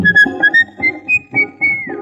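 Melodic whistling in an old Hindi film song, a bright tune of short notes over soft accompaniment, phrase after phrase with a final gliding note.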